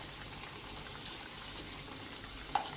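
Pajagua mascada, Paraguayan cassava patties, frying in very hot oil: a steady, even sizzle and crackle throughout, with one brief sharp pop near the end and no talking.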